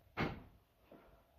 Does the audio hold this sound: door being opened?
yes